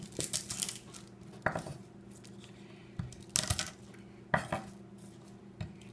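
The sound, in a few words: crushing garlic cloves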